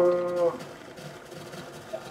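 A single drawn-out cow moo in a video game, fairly close and clear at the start, followed by quieter ambient game noise.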